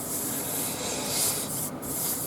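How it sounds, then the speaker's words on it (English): Sandpaper at 80 grit scrubs steadily over a leylandii wood vase, a continuous close hissing rasp with slight surges in pressure and no pauses. "I'll show a little bit of the sanding"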